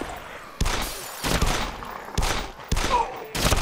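Gunfire in the video game DayZ comes in five or six sharp, loud bursts of rapid shots, each separated by brief pauses, with faint background ambience in between.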